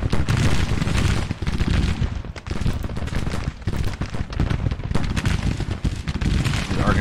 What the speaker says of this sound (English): Let's get these 3-inch guns up here so they can start firing.